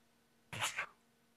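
A single short, sharp sneeze bursts out close to the microphone and is gone in under half a second, with quiet room tone before and after.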